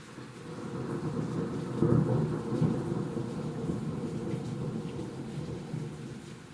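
Low rolling thunder rumbling steadily through a hail and thunderstorm over Cambridge, UK, with rain hissing underneath and no voices.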